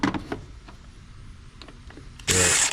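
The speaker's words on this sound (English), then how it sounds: "start by taking these 21 bolts out. That is with the T30 Torx bit." On a Hellcat, a power drill fitted with a T30 Torx bit loosens a bolt with a loud close whirring burst near the end, after quieter clicks and handling noises.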